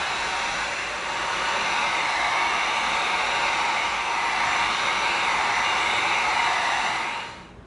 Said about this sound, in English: We come in with our heat gun.